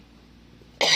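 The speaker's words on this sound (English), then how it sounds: "Sorry, I need a cough." A single sharp cough bursts out near the end after a quiet moment, loud and close.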